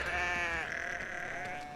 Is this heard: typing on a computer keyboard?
no